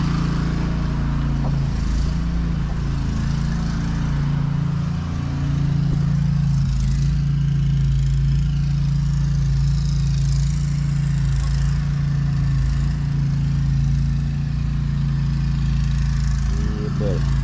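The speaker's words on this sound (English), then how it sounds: "We're pumping concrete today." A concrete pump's engine runs at the job site with a loud, steady low drone and hum that holds unbroken from start to end.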